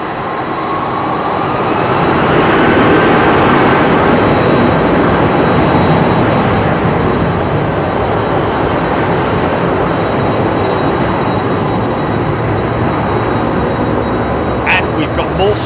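A KLM Boeing 747 takes off from runway 27R at London Heathrow, with a loud, sustained jet engine roar and rumble that holds steady and slowly fades, heard from nearby on the ground.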